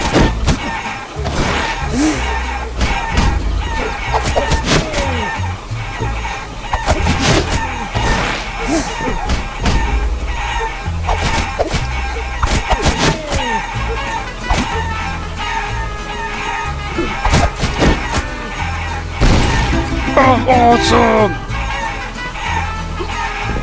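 Clucking chickens in the video game Guacamelee, repeated short clucks and squawks scattered among game music and effects, with someone talking over the gameplay.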